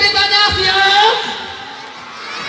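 Children's audience at an Islamic storytelling event for a 1 Muharram celebration cheers and shouts together, a lively crowd of young voices sustained across the moment, slightly easing toward the end.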